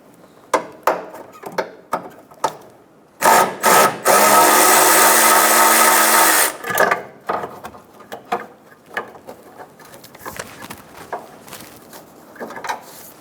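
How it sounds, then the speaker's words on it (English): A 10mm socket on a ratchet or power driver removing a bolt from a horn bracket on a 2000–2007 Ford Focus, with sharp clicks and knocks around a sustained loud whirring burst of a few seconds. "Using a 10mm socket, remove the bolt for the bracket."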